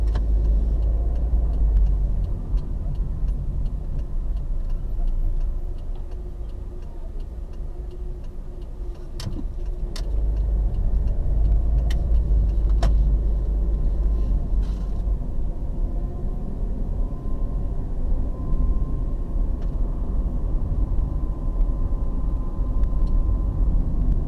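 A car drives slowly through suburban streets of Chelstone in Lusaka, Zambia, its engine rumble and low road noise steady throughout, with a few faint clicks and ticks from inside the cabin.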